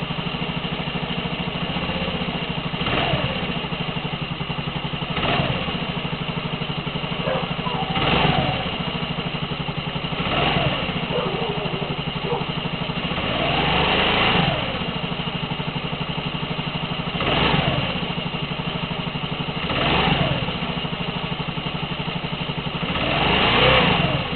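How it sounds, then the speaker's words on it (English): An Automoto moped engine idles steadily, with short throttle blips swelling the revs about every two to three seconds across the whole stretch, loud and close with no talking. "So let it idle a bit. Once you know that's good, give it a little bit of gas, just tap it a bit"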